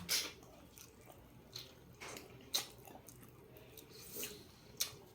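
Soft, crunchy chewing of fried fish with skin and bones comes in irregular bites, close and quiet, with faint wet squishes between them.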